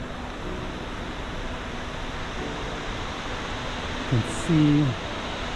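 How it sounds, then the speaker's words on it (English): A powerful waterfall roars at a river's edge on a Southern Oregon hiking trail, a constant broadband rush with a few words spoken briefly over it. "the waterfall is a rager"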